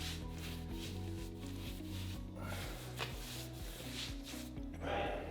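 A paintbrush brushes white paint along the edge of an interior wall, giving soft steady rubbing strokes, faint and close, over a constant low hum.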